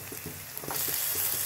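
Garlic cloves and ginger dropped into a pan of onions frying with dried chillies and bay leaves for dal, giving a steady close sizzle with a few soft stirring clicks, the frying growing slightly louder partway through.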